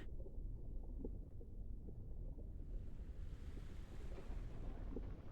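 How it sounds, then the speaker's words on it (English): Steady low wash of water lapping against a shore in a video game, a continuous rumbling surf-like bed with no voices. "that's why we can hear like the water lapping against the shore here"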